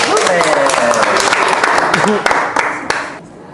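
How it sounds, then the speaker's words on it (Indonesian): Clapping from a small group of friends and classmates at the end of a horror story session, a brisk patter of hands mixed with overlapping voices that fades out near the end. "Tepuk tangan."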